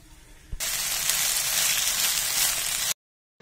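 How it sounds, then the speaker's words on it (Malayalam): Okra frying in two tablespoons of oil in a heated pan gives a steady, close hiss that starts abruptly and holds for about two seconds before cutting off. "പാൻ ചൂടാക്കി 2 ടേബിൾ സ്പൂൺ ഓയിൽ ഒഴിച്ചതിന് ശേഷം വെണ്ടക്ക വറുത്തെടുക്കാം."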